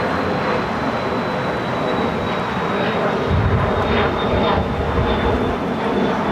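An airliner taxies at LAX toward a taxiway, its engines producing a steady, broad roar with a thin high whine running throughout, close and unbroken.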